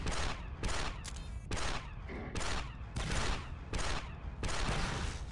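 Sustained blaster and rifle fire from a Star Wars Republic Commando firefight against super battle droids, loud bursts in rapid succession with brief pauses between volleys, filling the whole stretch.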